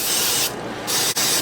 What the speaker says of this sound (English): Just give it a little spray on top.